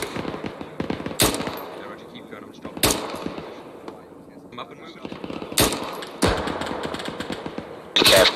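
Sharp gunshots and rapid bursts of automatic fire in an Arma 3 military battle, some close and loud, others farther off, spaced irregularly across a continuous rumbling combat backdrop.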